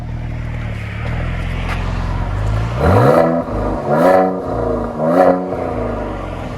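A 2020 Mercedes C43 AMG with a bi-turbo engine and stock exhaust idles in park, then revs up three times in a row, a loud, close rising and falling growl.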